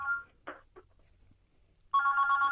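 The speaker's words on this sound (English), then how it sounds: "whose phone line is that ringing in the background?" A mobile phone rings in the background of a radio phone-in studio, with short tonal bursts followed by a sustained electronic ring starting near the end.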